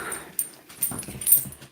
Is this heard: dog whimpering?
yes